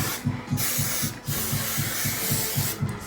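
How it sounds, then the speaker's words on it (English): Aerosol spray, likely hairspray while getting ready for a fashion show, hissing in a steady broadband rush with brief gaps, close and fairly loud, over a low rhythmic pulsing background. "spray one more time."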